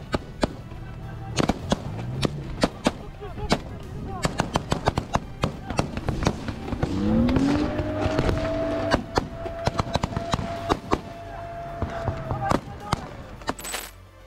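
Intense gunfire from combat between Ukrainian brigades and Russian soldiers in the Ukraine war, heard as scattered sharp bursts and single cracks at varying distances, mostly under someone narrating in Spanish.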